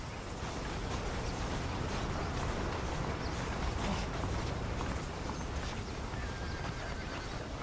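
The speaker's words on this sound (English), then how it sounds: "The horses are saddled up over here." Saddled horses in a Red Dead Redemption town snort and neigh over dense, continuous clopping of hooves, loud and close with a busy ambient bed.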